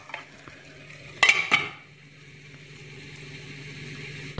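Chicken frying in a pan, with a low steady sizzle broken by a couple of brief scraping, stirring clatters of a utensil against the pan.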